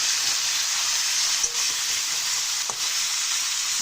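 Cut vegetables for chorchori hit hot oil seasoned with panch phoron and fried dry red chilli, giving a loud, steady, close sizzle throughout with faint stirring clinks.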